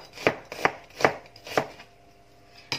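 An onion being chopped with a knife on a board, five sharp close thuds in an even rhythm followed by a short pause and one last cut, with no talking.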